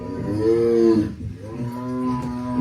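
A tiger gives a deep, drawn-out moo-like call with a strong harmonic tone, two long bellows close by with a short gap between them.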